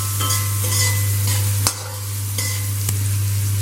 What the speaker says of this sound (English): Again give it a nice stir.